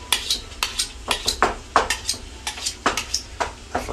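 Kitchen knife drawn through a pull-through sharpener during home cooking, about a dozen quick metallic scraping strokes in a steady rhythm, close and distinct, with faint frying in the background.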